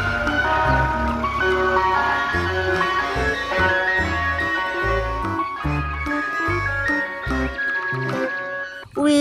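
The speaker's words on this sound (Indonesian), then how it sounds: "Wow, lihat, yang ini mobil es krim." A toy ice cream truck plays its jingle, a steady, bright tinkling melody that carries on loudly and without pause through the whole stretch, with no voices over it.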